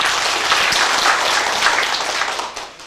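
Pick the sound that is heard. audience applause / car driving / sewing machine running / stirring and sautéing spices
audience applause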